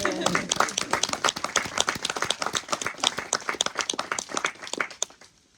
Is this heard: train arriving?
no